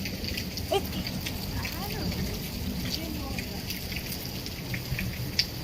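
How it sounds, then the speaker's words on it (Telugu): Heavy rain pours steadily during a downpour in Hyderabad, a dense, continuous hiss with scattered drop patter, with a voice talking over it. "వర్షం అయితే ఘోరంగా పడుతుంది"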